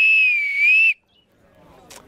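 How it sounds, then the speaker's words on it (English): A clear, high whistle made from elder wood, blown once for about a second, pitch wavering slightly, followed by quiet rustling. "how to make a whistle out of a piece of elder"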